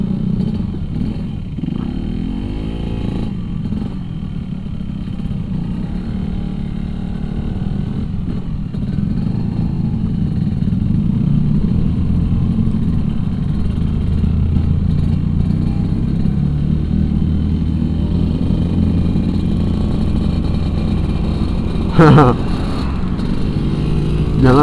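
A Yamaha RX King motorcycle riding along a city road in Makassar, its engine droning steadily and close throughout with a brief louder burst near the end, while a rider talks over it.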